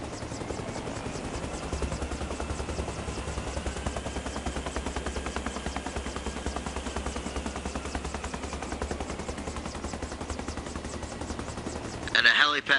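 A helicopter in the video game Arma Reforger holds a steady, loud rotor drone throughout, with a sudden louder burst near the end.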